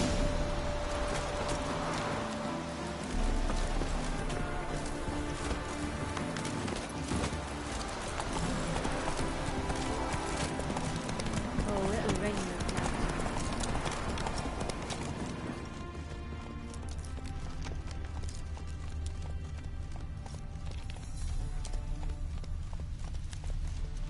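In The Witcher 3, a horse gallops with rapid, rhythmic hoof clip-clops that carry on steadily before thinning and slowing in the last third.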